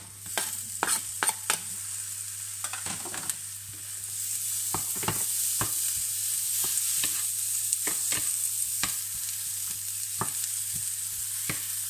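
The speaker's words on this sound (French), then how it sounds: "Et là je vais faire revenir mes poivrons." Bell peppers sautéing in a pan give off a continuous bright sizzle, with sharp scraping and clicking as a utensil stirs them at irregular intervals.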